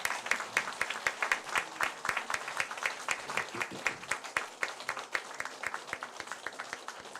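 Congregation standing to applaud during a Korean church service at the start of the new year; sustained, steady clapping from many hands fills the room, moderately close, with no talk over it.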